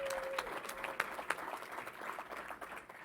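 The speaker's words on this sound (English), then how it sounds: "We have to give him a round of applause." An audience at a New York State government event gives a quiet round of applause, with dense soft clapping and a few sharper individual claps standing out, heard from some distance.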